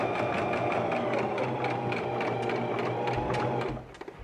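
A sewing machine stitching layers of fabric for a face mask, a fast steady mechanical rattle close up that runs without a break and stops just before the end.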